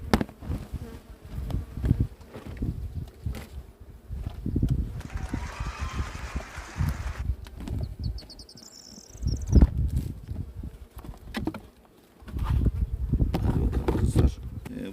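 Honeybees buzz in an unsettled hive, a low steady hum that swells and fades with handling noise, while someone talks over it at times.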